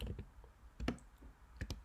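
Typing on a computer keyboard during a Photoshop session, a handful of quiet, close key clicks spaced irregularly across a short, otherwise hushed moment.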